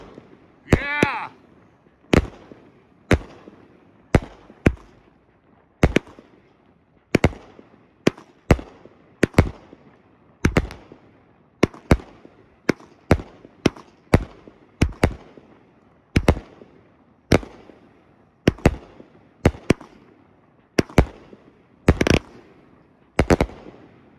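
Outlaw Pyro Sir Vegas firework cake firing outdoors: a single crackling launch, then a long series of loud, sharp booming shots spaced roughly a second apart, each with a short decaying tail.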